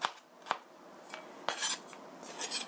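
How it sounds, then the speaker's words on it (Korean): A knife trims the stem end off a vegetable on a cutting board while making curry rice, producing a few sharp, close taps and clicks spaced apart in a quiet kitchen, with no speech. "꼭지 부분 썰어 주시고요"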